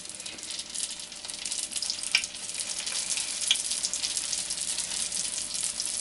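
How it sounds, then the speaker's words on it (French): Almond cigar rolls fry in a little oil in a pan with a steady, close, bright sizzle throughout. A few sharper pops and crackles break through the hiss. "Et puis je fais frire jusqu'à ce qu'il y ait une belle coloration"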